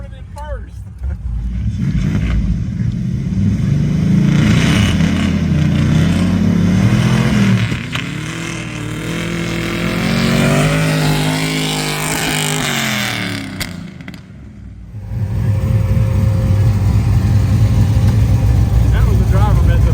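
A Chevrolet Silverado 6.0 truck in four-wheel drive launching in first gear, its engine revving loud and close with rising and falling pitch as it accelerates, a voice talking over part of it.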